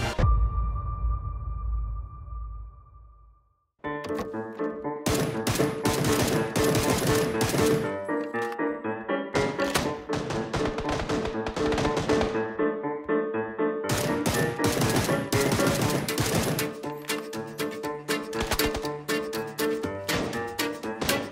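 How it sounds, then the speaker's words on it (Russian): Gunfire in the video game PUBG, rapid bursts of loud shots that start after a short quiet stretch and keep up in dense, repeated volleys. "И финиширующим выстрелом завершает матч с победой игрок под ником Инк"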